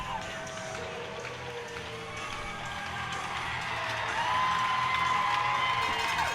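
Home fans at a hockey game after a fight, a crowd roar with cheering and whoops that builds gradually and grows louder near the end, heard under commentary.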